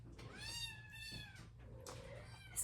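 A kitten meows in soft, high, drawn-out cries, three or four calls in quick succession, close by and fairly quiet, with no talking.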